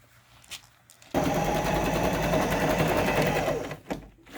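A sewing machine stitches fabric for a homemade snake costume, a loud steady mechanical whirr running close up for about two and a half seconds after a few quiet handling sounds, then stopping into light rustles.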